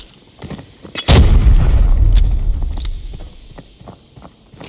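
Grenade blasts in the video game Arena Breakout: one heavy, close boom that rumbles and slowly fades, followed by fainter thuds and clatter, with no talking.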